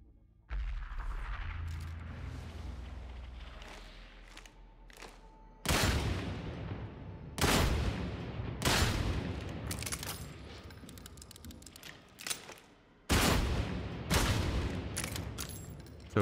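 Revolver shots ring out in the video game Darktide, single loud cracks spaced a second or two apart amid lighter in-game clatter and shuffling, close and sharp with no talking.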